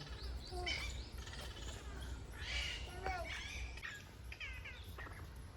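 Several birds at a zoo chirp and call in bursts of varied, bright tweets, fairly close, over a steady low background rumble of outdoor crowd noise.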